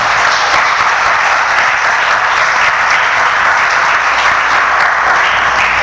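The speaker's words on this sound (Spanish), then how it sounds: "Denle un fuerte aplauso al Señor" A church congregation applauds loudly and steadily, a dense, even wash of many hands clapping together for the full stretch without letup.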